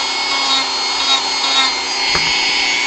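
A power tool fitted with a new sanding drum whirs steadily while sanding a model, a loud continuous buzzing drone with a faint click near the end.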